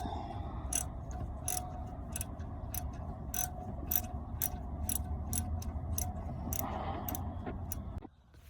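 A socket ratchet clicks in quick, evenly spaced bursts while loosening a starter bolt on a Mitsubishi Eclipse, close and crisp over a low background rumble, then falls quiet at the end.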